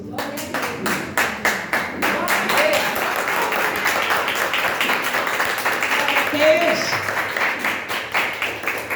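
A church congregation applauding during a worship service, brisk rhythmic clapping from many people that carries on steadily, with a voice speaking briefly over it.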